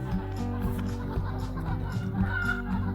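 Chickens cluck continuously in the mobile game Egg, Inc., a dense flock chatter layered over a steady droning background at moderate volume.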